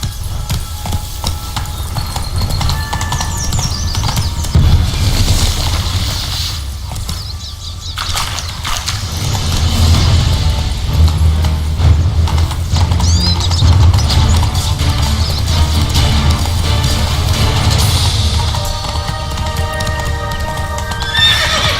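Roach the horse in The Witcher 3: Blood and Wine gallops with loud, rapid hoofbeats, neighs and whinnies over game ambience and music, continuous and close.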